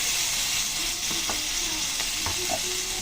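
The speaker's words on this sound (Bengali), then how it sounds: "এখন দিয়ে দিচ্ছি হলুদ তেলের উপর, দিচ্ছি সামান্য একটু আদা" Turmeric and a little ginger fry in hot oil with a steady, dense sizzle, a few stirring scrapes and clicks cutting through, close and constant throughout.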